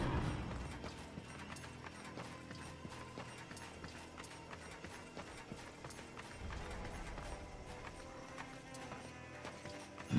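Steady clip-clop of horse hooves in Darksiders 2 over a busy mix of clanking mechanical sounds and ambient game music, continuous and fairly loud throughout, with no talking.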